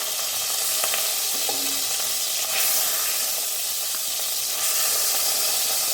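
Pieces of rohu fish being shallow-fried in hot oil for a sweet-sour Bengali curry, a steady, loud, close crackling sizzle with occasional stirring clinks throughout.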